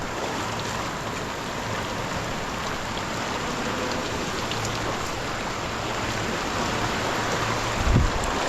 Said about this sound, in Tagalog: Oh yan oh, ulan.